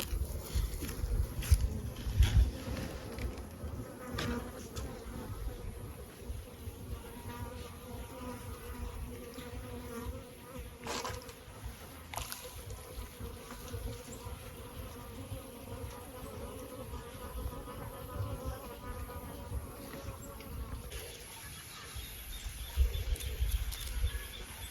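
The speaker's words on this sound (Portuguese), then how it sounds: "As abelhas aqui adoram esse sistema aqui de irrigação" Bees buzz steadily around a drip irrigation system outdoors. The drone is soft and continuous, with occasional louder passes as single bees fly close. Faint wind and a distant bird sit underneath.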